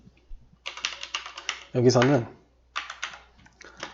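Typing on a computer keyboard while C++ code is written, heard as quick bursts of clicking keystrokes mixed with talk, with a pause where the speaker's voice takes over before the typing returns.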